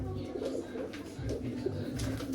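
Soft, low cooing from caged doves or pigeons, repeated in short murmuring bursts at close range with faint background noise.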